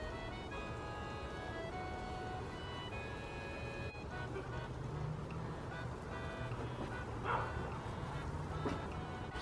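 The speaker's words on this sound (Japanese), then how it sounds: "みんなワンワン言わなくていいや" Pet dogs bark and yip faintly indoors at home, their scattered calls sitting low under a steady background hum, with a vehicle passing nearby.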